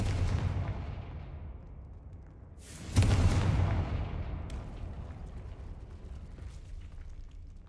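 Explosion from the Confringo fire spell in a Hogwarts wizarding video game, a single loud boom roughly midway that decays into a long rumbling tail, preceded by low ambient rumble.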